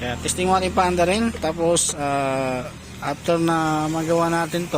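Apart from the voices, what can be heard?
No distinct noise like a dog, phone or traffic.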